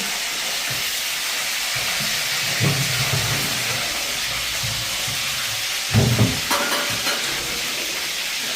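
Food fries steadily in a pan, a continuous sizzle with stirring scrapes swelling briefly near the start and again toward the end, close and moderately loud with no talk over it.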